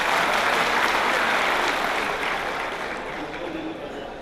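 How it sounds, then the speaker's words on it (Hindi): Audience applause at a poetry recital, a dense, continuous roar of clapping that starts strong and gradually thins and softens toward the end, with no clear speech over it. "एक बार ज़ोरदार तालियां बजा के थोड़ा हौसला बढ़ाएं।"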